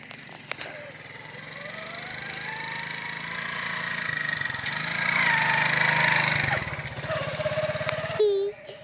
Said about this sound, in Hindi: ये मोटरसाइकिल के पीछे ना कितना ज़्यादा घास लाद के आ रहे हैं।